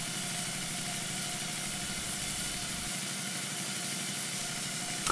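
Working model steam engine running just after its throttle is opened, a continuous steady hiss with a fast, even mechanical churn underneath, close and unbroken, with no talk.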